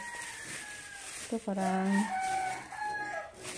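A chicken clucks and crows close by in short bursts, while a person talks over it.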